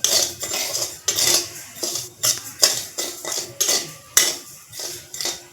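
Foxtail millet dry-frying in a pan while a spatula stirs it, rhythmic scraping strokes about once per second, each a raspy swish against the metal, close and fairly loud.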